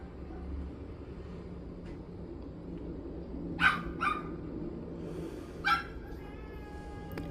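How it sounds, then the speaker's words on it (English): Several neighbouring dogs bark outdoors at a moderate distance, in short bursts of sharp yips and barks with quiet gaps between them over a low steady background hum. "the neighbor's dogs are not happy with me"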